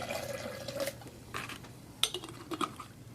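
Liquid is poured into a container while making a homemade electrolyte drink with sea salt: a short, faint trickling fill, then a few light clinks of glass and utensils.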